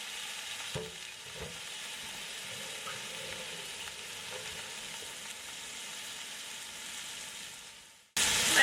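Beef sears in a pan with about a tablespoon of oil for a pot roast, giving a steady, moderately loud sizzle with a couple of light knocks early on. Near the end the sound cuts out and a brighter burst of hiss takes over.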